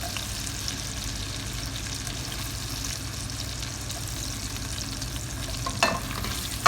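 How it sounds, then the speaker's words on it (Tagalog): Onion sizzles steadily in melted butter in a pan, a continuous close frying hiss with occasional faint stirring sounds and no voices. "Yan, ilagay ko na yung sibuyas guys."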